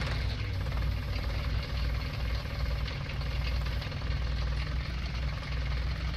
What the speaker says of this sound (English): Looks like I'm gonna have to move my tractor.